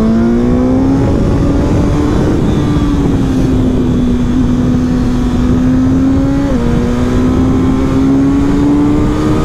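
A Suzuki GSX-S 1000 World Edition motorcycle engine drones loud and close at steady high revs, pitch sagging slightly then climbing again after a quick shift, with no talk.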